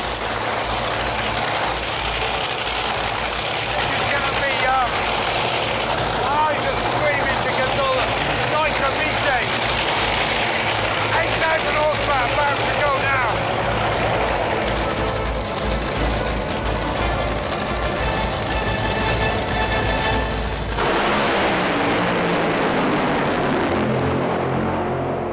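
An 8000-horsepower drag racer's engine roars continuously during a tyre warm-up, loud and close for about twenty seconds before cutting off abruptly and leaving a fading rumble.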